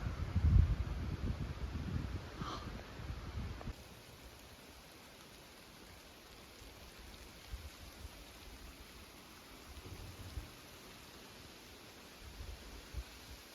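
Steady light rain patters at a lakeside backcountry campsite by Lake Minnewanka, a fuller, closer wash for the first few seconds before settling into a soft, even hiss with occasional louder drops.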